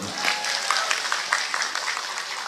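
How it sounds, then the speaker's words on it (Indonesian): An audience at an Islamic religious gathering claps in applause for the Muslimat women's group at their anniversary event, a dense, steady burst of many hands with crowd voices mixed underneath. "Tepuk tangan untuk muslimat."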